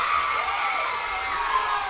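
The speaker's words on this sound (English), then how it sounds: "Wow, Harvey must have some crowd here." A loud crowd cheers and whoops continuously at an amateur veterans' fight event, with shouting voices blending into a steady roar that holds throughout.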